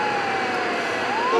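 Police car passing fast with its siren on, a wailing tone that dips and then rises again, heard from inside a moving vehicle over steady road noise.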